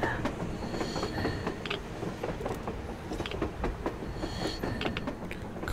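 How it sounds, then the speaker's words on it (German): A coal-powered train rolls past in the Metro Exodus video game, a dense continuous rumble of wheels and creaking carriages with rhythmic metallic clicks and clanks, steady and fairly close throughout. "da fährt eine Eisenbahn"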